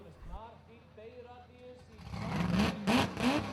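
A carburetor-fed off-road racing car at an Icelandic Formula Offroad round in Hafnarfjordur revs up after talking, its engine rising in a few rough, swelling bursts that grow louder toward the end.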